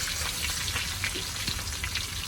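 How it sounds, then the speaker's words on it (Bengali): Raw mango pieces fry in hot mustard oil, giving a dense, steady crackling sizzle like rain, close and continuous with no talk. "সরিষার তেলের ভিতরে এখন আমগুলো দেওয়া হচ্ছে।"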